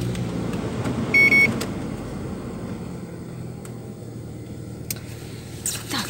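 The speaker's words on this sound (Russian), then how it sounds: "Пусть машина пока прогревается." A car engine idling as it warms up on a cold day, a low steady hum close by with a brief electronic beep early on and a few faint clicks and rustles.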